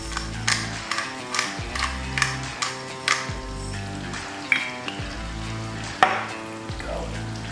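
Onions stirred in a hot pan with a utensil beside steak cooking. Repeated scraping and clacking strokes come in a steady rhythm over a sizzling background, close and moderately loud, with no talking.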